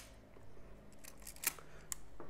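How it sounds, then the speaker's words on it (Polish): A Canon film camera's shutter fires with two sharp, crisp clicks about half a second apart, close and clear over a quiet room. "I tutaj jest migawka."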